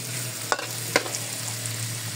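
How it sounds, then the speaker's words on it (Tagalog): Mushrooms sauté in a pan for creamy beef and mushroom, a constant close sizzle with two quick spatula clacks, no voices. "Pag gisa na ito, gisa rin natin yung mushroom natin."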